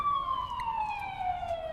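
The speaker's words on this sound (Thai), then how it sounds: "รถพยาบาลนี้มาทำอะไรกันเหรอ" An ambulance siren wailing in the video game The Coma Recut, a steady descending electronic tone held loudly over a low rumble.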